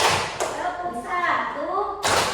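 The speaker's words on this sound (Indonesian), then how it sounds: "Tepuk satu, tepuk dua, tepuk satu, tepuk dua" Students in a ninth-grade classroom clap in short, sharp bursts on a teacher's counted cue, with a couple of crisp hits separated by her spoken instructions.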